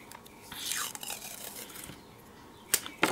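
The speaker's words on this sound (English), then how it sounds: "I'm probably gonna tear this right here just to make it easier there" Washi tape is torn by hand, giving short, close ripping and crinkling sounds, one stretched tear early on and two quick sharp rips at the end, quiet and with no talking.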